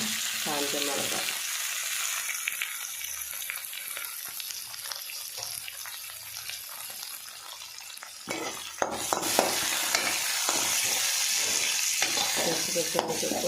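Vadagam, onion and dried chilli fry in hot oil, giving a steady crackling sizzle that swells louder partway through as more goes into the pan, with soft stirring and no one talking.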